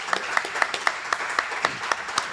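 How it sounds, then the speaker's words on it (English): Audience applause from a live studio crowd at a US Open broadcast, rhythmic clapping of a small group at steady, moderate loudness, with sharp individual claps standing out over the wash. "So round of applause for common sense."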